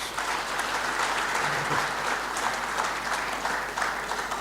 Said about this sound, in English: I'd like you to give them a huge warm welcome of applause.